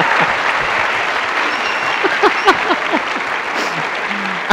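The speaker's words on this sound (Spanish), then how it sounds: "ya un aplauso para Julián" A talk-show studio audience applauds for Julián Román, with steady clapping throughout. Brief voices call out and laugh over the applause midway through.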